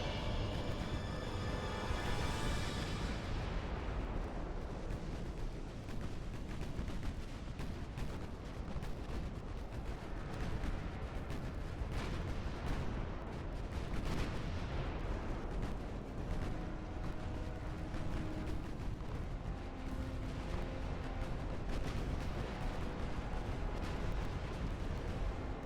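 Naval guns fire repeatedly in Ultimate Admiral Dreadnoughts during a pre-dreadnought battle, a dense rumble of overlapping booms and blasts continuing throughout at a fairly faint level.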